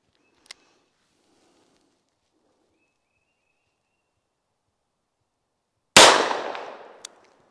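A Smith & Wesson Model 1917 WWI revolver fires a single .45 ACP round outdoors, a loud sharp blast with a decaying echo after near-silence, followed by a faint distant click of impact.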